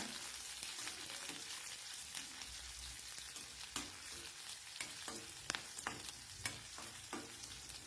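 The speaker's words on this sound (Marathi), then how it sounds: "हे मिरच्या आणि लसूण छान तेलावर परतून घ्यायचे बघा" Green chilies and garlic fry in hot oil with a loud, dense, continuous sizzle and crackle, while scattered sharper pops and stirring scrapes run through it from start to finish.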